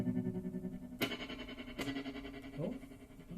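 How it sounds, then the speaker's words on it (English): An electric guitar played through an amp with spring reverb and the tremolo effect turned up, sustained notes pulsing in a steady wobble with a few sharp pick attacks ringing out alone. "increasing the tremolo."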